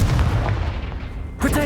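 Confringo fire spell blasting in the Hogwarts Legacy game, a short, loud, booming burst followed by a second sharp impact, with a voice briefly underneath.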